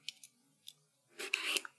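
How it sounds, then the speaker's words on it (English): An eggplant being peeled, with a few short soft scraping strokes followed by a longer, louder stroke of the peeler near the end, close and quiet. "then we're going to peel the eggplant"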